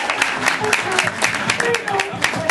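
A small crowd at a Barnes & Noble bookstore event at The Grove claps in a steady, moderately loud burst of many hands, with a few brief voices over it.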